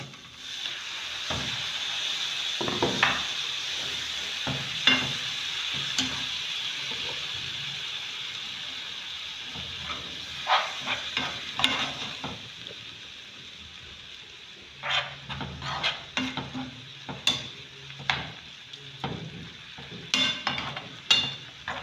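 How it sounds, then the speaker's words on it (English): Minced meat for a homemade meat pie fries in a pan, a steady close sizzle broken by repeated scraping and clattering stir strokes, more frequent toward the end, with no talking. "So I'm adding my minced meat."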